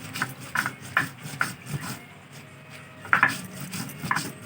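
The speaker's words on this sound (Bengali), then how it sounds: "ততক্ষণ আমি মশলাটা বেটে নিচ্ছি।" A paste of chili, ginger, cumin and cardamom is ground by hand on a stone, producing rhythmic scraping and rubbing strokes in irregular bursts with short pauses, close and moderately loud.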